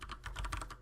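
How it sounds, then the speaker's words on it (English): Brief flurry of soft, quick keystrokes on a computer keyboard, about eight close taps in under a second, quiet and with no talk. "type in the following"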